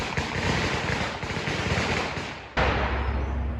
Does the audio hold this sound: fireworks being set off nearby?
yes